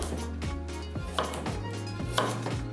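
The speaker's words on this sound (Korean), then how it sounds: "당근은 먹기 좋은 크기로 썰어주세요." Carrots chopped on a board with a kitchen knife, about five distinct knocks in a steady, unhurried rhythm, close and clear with no talk.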